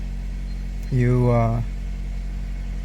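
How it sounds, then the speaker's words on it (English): A 2022 Toyota Corolla engine idling after being started, a steady low hum throughout, with a brief word spoken over it. "And you start the engine. Wait until the engine warm up."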